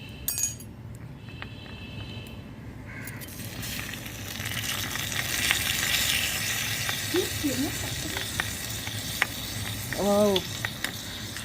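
Tomatoes sizzle and fry in a miniature pan while being stirred, a soft steady crackle with small clinks of the utensil. Brief voices and exclamations come through near the end.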